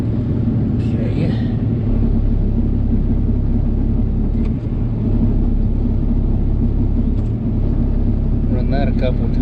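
An engine idling to warm its oil, a loud, steady, close rumble that holds unbroken throughout, with a few faint higher chirps near the end.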